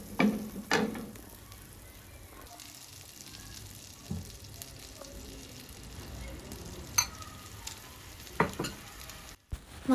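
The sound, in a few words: calamari frying in butter and oil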